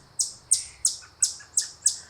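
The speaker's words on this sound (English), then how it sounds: "Why are the birds so noisy?" Birds chirping near a backyard bird feeder: six sharp, bright, evenly spaced high tweets in quick succession, close and clear over a quiet background.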